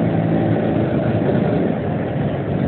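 Vespa PX scooter engine runs during a night ride, a loud, continuous buzzing putter close to the listener with no pauses.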